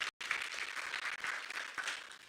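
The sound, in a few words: audience applause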